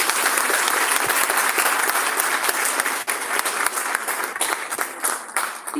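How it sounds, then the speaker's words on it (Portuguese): Applause from an audience at an anniversary gathering, sustained clapping close by that tapers and wavers toward the end. "Então, mais uma salva de palmas para eles."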